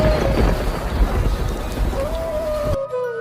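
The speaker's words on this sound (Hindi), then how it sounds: "तभी अचानक जंगल में बहुत तेज से बारिश शुरू हो जाती है" Heavy rain pours down in a forest with rumbling thunder, a dense steady downpour that fills the scene loudly for nearly three seconds before cutting off abruptly to near silence.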